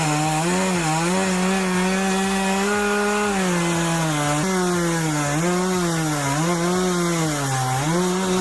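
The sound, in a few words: chainsaw cutting through timber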